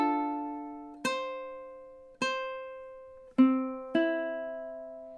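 Ukulele playing measure 6 of a song, four clear plucked notes or chords spaced about a second apart, each ringing and slowly fading, close and alone.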